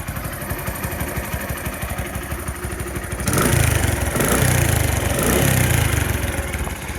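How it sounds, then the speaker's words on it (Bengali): A Bajaj CT 100 motorcycle engine idles with a steady low putter, then revs up louder for a few seconds before settling back down. "এটা হচ্ছে বাইকটার ওভারঅল সাউন্ডের কন্ডিশন"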